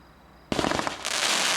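A 200-gram, 20-shot America's Spirit firework cake fires after a half-second lull, loosing a rapid, loud string of near bursts and crackles that swells into a dense, sustained roar.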